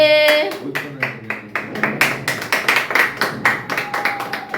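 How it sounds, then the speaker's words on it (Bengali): Hands clapping in a rapid, fairly loud run of sharp claps close by, following a brief opening tone, with voices mixed in. "হাততালি হবে"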